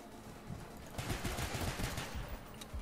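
Pistol fire in Call of Duty: Black Ops 1 as a quick string of close, sharp shots, a rapid volley of cracks over low game noise with no talk.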